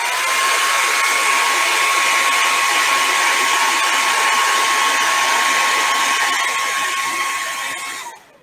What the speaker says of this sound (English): Let me just bring a hairdryer in real quick.